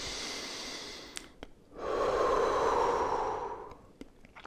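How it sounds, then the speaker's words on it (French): A person breathing fast and heavily close to the microphone, with a long rushing exhale after a short pause and a few faint clicks around it. "on va respirer"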